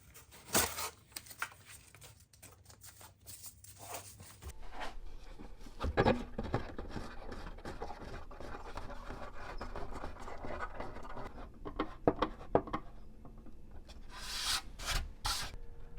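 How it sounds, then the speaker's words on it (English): Steady hand sanding of balsa wood on a model plane fuselage, a continuous scratchy rubbing with irregular strokes and a few sharper scrapes, close and moderately loud. "I just need to continue to kind of sand this down"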